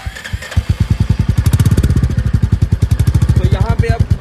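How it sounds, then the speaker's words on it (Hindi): A 2023 Royal Enfield Meteor 350 single-cylinder exhaust starts up and settles into a close, loud, rhythmic thumping idle with evenly spaced pulses, with brief talk near the end. "मैं आपको एग्जॉस्ट की साउंड बता देता हूँ।"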